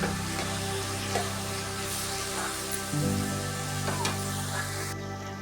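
Carrot halwa stirred in a pan after fried dry fruits are added. A steady soft sizzle with light scraping and stirring noises continues throughout, with no voices.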